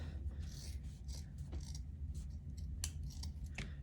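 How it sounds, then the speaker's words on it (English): Scissors snip through a shirt's sleeves, quiet repeated cuts and rasping blade strokes spread across several seconds against a low background hum, with no talking. "I'm gonna cut these sleeves off real quick for you."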